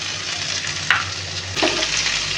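Small pieces of cut eggplant drop into a pan of sizzling fish curry, a steady hiss of hot oil with a couple of sharp clatters as the pieces go in, close and loud, no talking.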